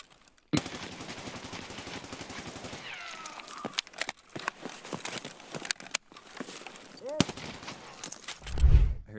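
Gunfire in Escape from Tarkov, a rapid automatic burst rattling at the start, then scattered single shots and sharp cracks at varying distances, with faint voices in between and a deep thump near the end.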